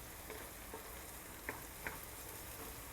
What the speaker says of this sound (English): So we are just giving it a good stir.